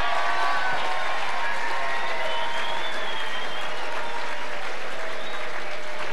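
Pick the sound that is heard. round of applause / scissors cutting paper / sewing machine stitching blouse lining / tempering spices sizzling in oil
round of applause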